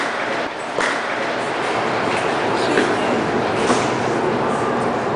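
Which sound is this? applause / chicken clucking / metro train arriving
metro train arriving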